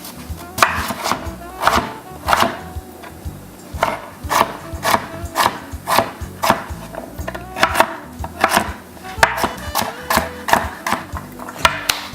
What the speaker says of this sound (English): I'm going to go ahead and get our yam all chopped up